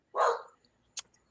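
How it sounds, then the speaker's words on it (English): A small dog barks once, sharp and fairly close, in a quiet room, with a brief faint yip or click just after. "Gonna have to excuse my little dog in the background if you hear her."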